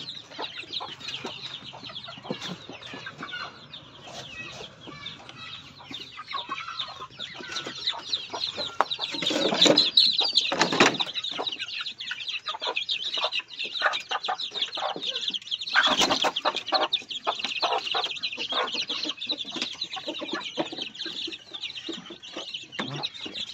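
Backyard native chickens cluck steadily while being fed, a busy overlapping flock heard close by with scattered chirps and louder bursts throughout, and no talk.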